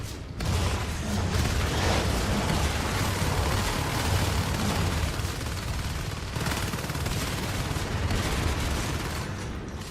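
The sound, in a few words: gunfire from Marines in a video game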